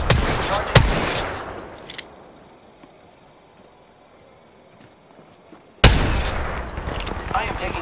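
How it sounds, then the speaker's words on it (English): Gunfire in the video game Apex Legends: a sharp burst of shots at the start, then a quieter stretch, then another loud volley of rapid fire near the end. "They're shooting at me!"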